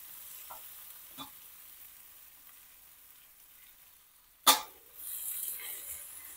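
Ginger garlic paste stirred into softened tomatoes in a pan on a home stove: a few light utensil taps, then one sharp clatter and a soft, steady sizzle toward the end. The clip is mostly quiet, with no talk.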